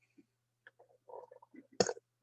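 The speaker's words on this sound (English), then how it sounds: "Excuse me for the burp." A person burps once, loud and brief, near the end after a few quiet throaty sounds, alone in a quiet room.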